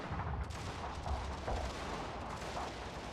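Cannon fire in a video game battle with Prussian forces, a dense, distant-sounding rumble of repeated booms and gunshots rolling continuously at low level.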